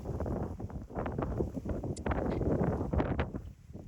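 Strong wind in Calais buffets the microphone with uneven rumbling gusts that surge and ease over a few seconds, with no clear voices.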